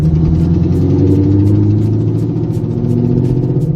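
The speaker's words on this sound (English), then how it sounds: "I was having a terrible noise coming from the car here" A car engine idles loudly up close, with a rhythmic ticking rattle from a broken header bolt riding over the low rumble.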